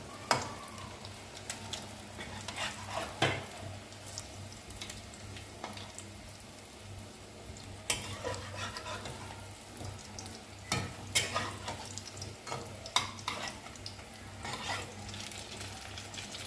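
Eggs frying in oil in a pan, a low steady sizzle with scattered utensil taps and scrapes at irregular intervals, fairly quiet and close, with no one speaking.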